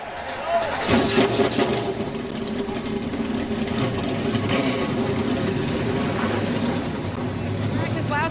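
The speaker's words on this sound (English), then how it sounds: "Drivers, start your engines!" NASCAR race car engines fire up together at Daytona, a sudden loud roar that settles into a continuous rumbling idle from many cars, with crowd noise and voices mixed in.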